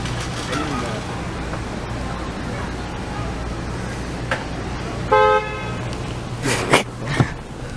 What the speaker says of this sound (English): Better not be honking at my boat